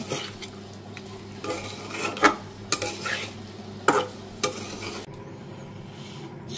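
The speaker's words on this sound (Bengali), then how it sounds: "ভালোভাবে নাড়াচাড়া করে নেব মশলাটা দিয়ে।" Egg curry masala stirred in a pan for a Bengali egg rosha, a spoon scraping and clinking against the metal in irregular strokes with a low steady cooking hum beneath, close and moderately loud, the noise dropping away near the end.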